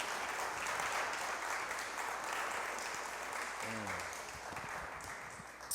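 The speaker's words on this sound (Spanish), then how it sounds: "Vamos a darle un aplauso a la palabra de Dios" A church congregation applauds during a sermon, a broad, steady wash of clapping from a crowd, moderately quiet, with a brief voice rising partway through.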